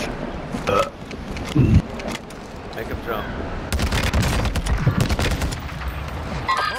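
TAQ-V rifle gunfire in a Call of Duty duos match: scattered shots and a burst of rapid firing crackle through the middle and end, close and punchy, mixed with players talking.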